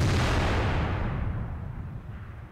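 A single heavy tank gun blast from the SU-122-44 tank destroyer in World of Tanks, a loud booming shot that rolls off into a fading rumble over about two seconds.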